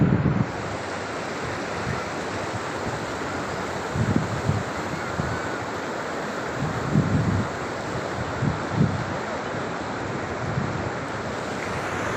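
Rushing water of a flooded river roars steadily after heavy rain, a broad continuous wash with wind buffeting the microphone in bursts.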